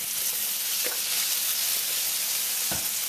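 Hoisin sauce hits a hot pan of beef noodle stir-fry and sets off a steady, bright sizzle. A couple of soft clacks sound under the constant frying hiss.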